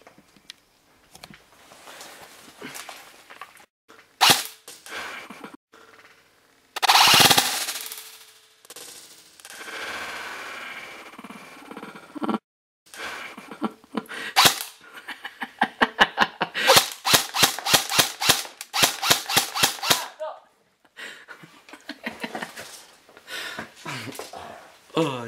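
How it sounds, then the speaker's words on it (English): A JG HK 416 airsoft rifle fires in semi-auto, starting with a few scattered shots and building into runs of rapid, evenly spaced sharp cracks, close and loud, with pauses between strings. "he's going to take a few hundred shots with this gun. First we're going to do it in semi-auto."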